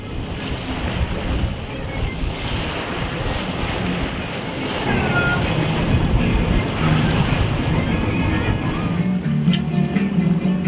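A sailboat runs slowly downwind through waves off a headland near the Ensenada de Ares, with steady broadband water wash and surf, wind buffeting the microphone, and a continuous loud rush throughout.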